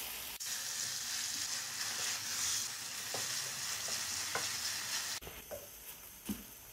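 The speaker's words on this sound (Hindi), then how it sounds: "चिकन को व्हाइट होने तक हम फ्राई करेंगे।" About 1.5 kilos of chicken mince frying in ghee gives a loud, steady sizzle, with scraping from a stirring spoon and a few knocks against the pan.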